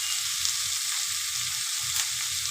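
Gobi (cauliflower) being stirred and mixed in a hot pan, a constant close sizzle of frying with soft, uneven scraping thumps of the stirring underneath.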